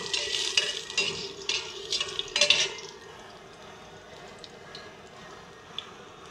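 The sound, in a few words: sautéing garlic in a pan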